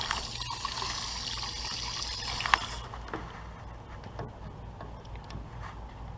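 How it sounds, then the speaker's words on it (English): Water drains from a backflow preventer test cock into a bucket, a close trickling splash that runs steadily before thinning to a quieter dribble. "we're draining into the bucket."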